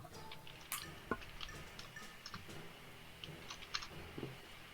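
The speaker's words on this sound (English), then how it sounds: "I was typing." Computer keyboard typing in a quiet room during an online tabletop role-playing session, scattered soft key clicks at irregular intervals, faint and close, with no voices.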